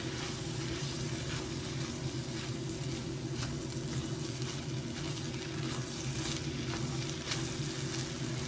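Fried rice with lamb chops sizzling steadily in a hot pan as plain rice is stirred into the base, a continuous close frying hiss with light scraping and no talk.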